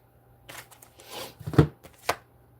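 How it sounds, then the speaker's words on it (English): A few quick papery riffles and soft slaps of tarot cards being shuffled up close, in short irregular bursts. "Shuffling for the collective."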